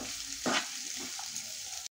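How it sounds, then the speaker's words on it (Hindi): Onions sizzle in a pan for home-style matar paneer, a soft steady frying hiss with a brief louder burst as they hit the oil, heard close and alone. "साथ में डाल रही हूँ ये प्याज। इसे 2 मिनट के लिए भूनना है।"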